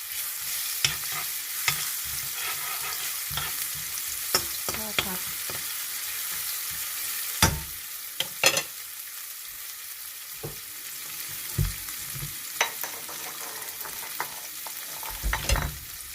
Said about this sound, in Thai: พอน้ำมันร้อนแล้วนะคะ ก็จะใส่พริกลงไปผัด อันนี้อาจจะกระเด็นนะคะ